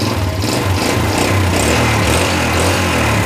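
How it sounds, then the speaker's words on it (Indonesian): A Yamaha Jupiter Z motorcycle with an intermittent ignition fault runs steadily up close after a kick start, its engine giving a loud, continuous buzzing drone with a low throb and no speech over it. "sini kita pasang kontaknya dulu, set, kita engkol"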